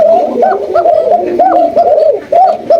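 Pigeons kept in a loft for sale coo loudly and close by in repeated, overlapping throaty calls with barely a pause.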